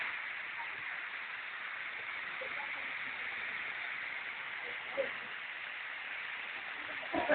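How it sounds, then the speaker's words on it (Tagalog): A small waterfall at Batlag Falls pours with a steady, even rushing hiss that fills the whole stretch, and a few faint, brief sounds rise near the end. "Mini falls."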